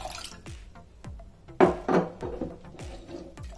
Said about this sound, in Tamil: சேர்த்துட்டு தண்ணி ஊற்றி ஃபஸ்ட்டு இந்த பருப்பை நல்லா வாஷ்